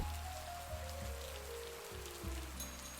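Steady rain falls on a rainy night outside a bookstore, a soft continuous patter with low rumbling beneath, faint and unbroken throughout with no voices.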